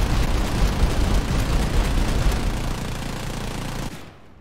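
Rapid quad cannon fire from the Su-8 in the game War Thunder, a dense continuous roar of shots lasting about four seconds before cutting off, loud with no talk.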